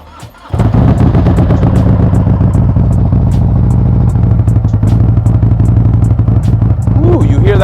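A motorcycle engine fires up from a cold start after sitting unused for almost a month, then settles into a loud, steady, deep rumbling idle with a pulsing throb close by.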